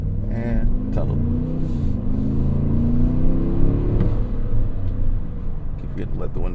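A 2025 Cadillac Escalade Platinum engine accelerating through a tunnel, a steady low rumble and rising whir that fills the cabin throughout, with someone talking over it.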